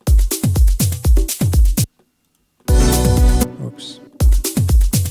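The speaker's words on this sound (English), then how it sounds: "So all of the drums together sounds like this." Busy afro house drum loop built from tom, bongos, congas and ride, playing a dense, driving groove with punchy low hits, cut by a brief silence and a fuller burst before the pattern returns.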